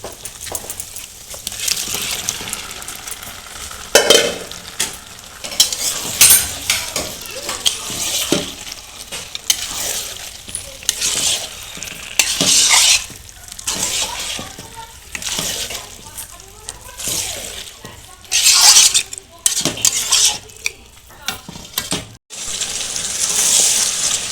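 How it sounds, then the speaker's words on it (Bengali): Marinated mutton coated in oil and turmeric hits a pot of cooked-down spice paste, sizzling loudly while a spoon scrapes and stirs in irregular bursts, the frying swelling and easing throughout. "এবার আমি মটনটা দিয়ে দেব মটনটা তো আধা ঘন্টা আমি মাখিয়ে রেখেছিলাম তেল হলুদ এবার দিয়ে দেব"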